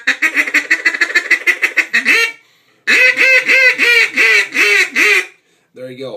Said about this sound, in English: 4 calls, all sound like ducks.